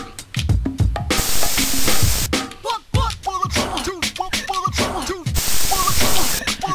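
Bursts of spray paint hiss in the Jet Set Radio game, broad and loud, alternating with rhythmic clicks and percussive game music.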